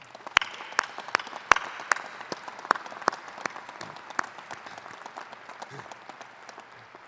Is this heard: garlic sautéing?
no